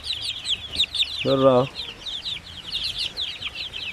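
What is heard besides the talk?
chickens clucking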